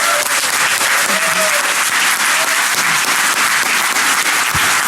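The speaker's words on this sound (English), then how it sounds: "A big round of applause for Jim." A conference audience at the DEF CON 21 hacking convention breaks into sustained applause for a speaker, a dense wash of clapping that stays loud and steady throughout, with a few faint voices mixed in.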